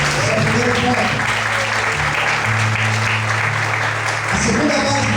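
A church congregation applauds during a sermon on the Protestant Reformation: a broad, sustained wash of many hands clapping, loud and continuous throughout, with a low held tone and voices underneath.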